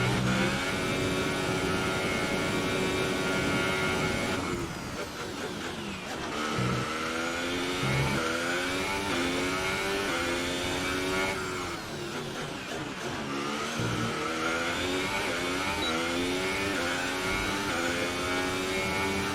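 A Formula 1 car engine in a racing video game screams continuously at high revs, its pitch climbing and dropping sharply through repeated gear shifts and braking for corners, loud and close with no voices.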